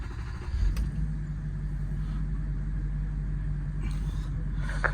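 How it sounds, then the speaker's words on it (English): Range Rover Sport L320 with the 3.6 V8 diesel, a steady low engine rumble at idle, close and continuous throughout with a brief swell early on. "Let's have a listen to this V8"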